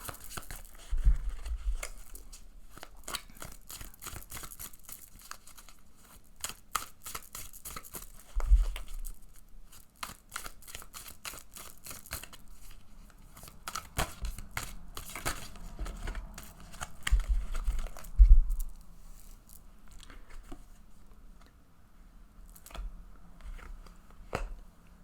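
Tarot cards are drawn and shuffled in a quiet room, giving soft, irregular papery flicks, snaps and crinkles, with a few louder thumps scattered through a long, close, low-level stretch.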